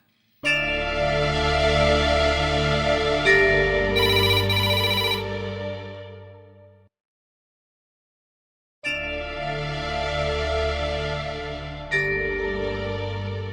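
A telephone rings on unanswered: a long melodic ringtone plays for about six seconds, falls silent for two, then starts again, loud and steady with no voices.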